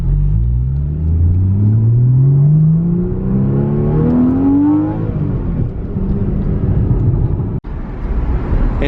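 A 2014 Porsche 981 Cayman S in Sport Plus mode accelerating hard, its engine note climbing through the revs in a loud rising sweep, then easing into a lower rumbling cruise, heard from inside the cabin.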